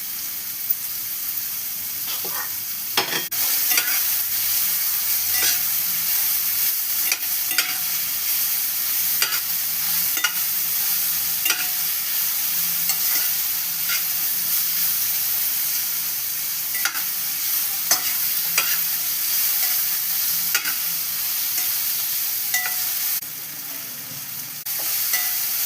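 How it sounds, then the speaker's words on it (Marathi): Chopped snake gourd stir-fries in hot oil in a pan with a steady loud sizzle, and a spatula scrapes and clicks now and then throughout. "आणि मस्त फ्राय द्यायचे ते आता."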